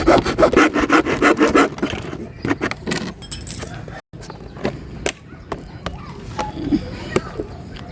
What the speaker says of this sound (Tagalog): ito lalagarin na lang natin kasi hindi naabot ng grinder yan